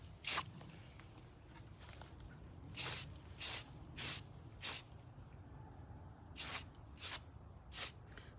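Short hissing bursts of spray paint applied to an AR-15 for camouflage, about eight separate sprays of roughly half a second each, close and fairly loud over a quiet background.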